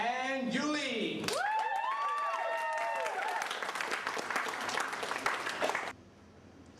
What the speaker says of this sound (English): join me in giving a huge round of applause to Jasmine and Yuli